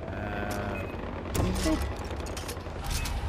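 Far Cry 4 gunfire in a battle near a bridge comes as scattered sharp shots and bursts over steady background noise, with a voice briefly speaking among the shots.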